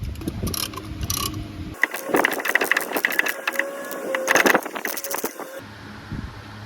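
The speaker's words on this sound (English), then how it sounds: "Use this tool here. This is really nice for caliper pistons." A ratcheting tool pressing brake caliper pistons back on a Saturn Vue front brake job, giving a run of close, loud mechanical clicks and metallic ticks amid workshop clatter.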